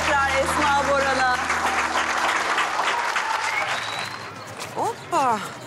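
Audience applause during a televised singing show, loud and dense for several seconds with some talk and whistles mixed in, then thinning and fading toward the end.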